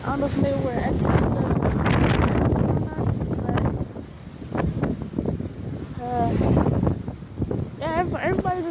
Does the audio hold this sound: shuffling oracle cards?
no